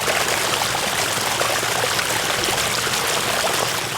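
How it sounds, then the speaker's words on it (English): Water falls onto rocks in a garden waterfall, giving a close, constant splashing hiss that is loud and even, with no talking. "The next one is water falling onto rocks, and that's a splashing sound"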